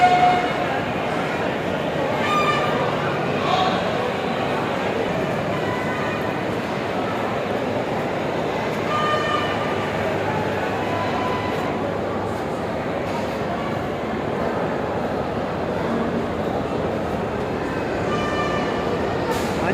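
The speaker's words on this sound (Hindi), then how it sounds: "अब हम खड़े हैं रेलवे स्टेशन के ऊपर।" Busy ambience at Lahore railway station, heard from a raised spot above the platforms: a steady rumble of trains and rail traffic with crowd murmur and scattered distant calls, constant throughout.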